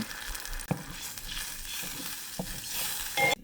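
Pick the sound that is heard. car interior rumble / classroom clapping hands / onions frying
onions frying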